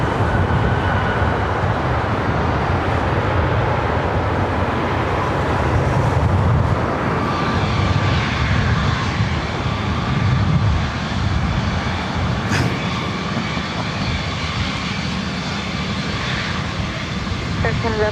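Delta flight 1494, a jet airliner at LAX airport, gives a loud continuous engine roar close by that swells and slowly fades, with faint traffic beneath it.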